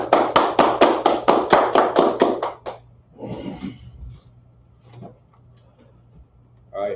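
A church congregation at a Saturday Sabbath service claps in a brisk, even rhythm for about three seconds, loud and close, before the clapping stops and scattered murmurs and faint voices remain.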